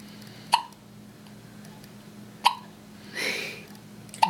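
A person hiccups three times at even intervals, each a short sharp close burst, with a soft breathy sound between them and a low steady hum underneath.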